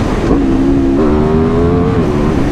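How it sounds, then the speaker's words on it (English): A 2020 superbike engine revs loud and close, its tone climbing in steps through the gears with a steady throaty roar. "And the sound!"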